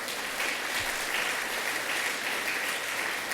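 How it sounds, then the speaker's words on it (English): An audience at a Buffalo Skyway Corridor competition announcement applauds, a dense, even wash of clapping holding steady and loud throughout. "Let's give her a round of applause."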